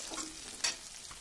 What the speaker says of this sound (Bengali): কাঁচা লঙ্কা দেওয়ার পরে ভালোভাবে নেড়ে চেড়ে নিচ্ছি পেঁয়াজটার সাথে